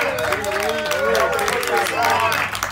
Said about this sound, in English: we gotta give a round of applause to Ken Van Wagner,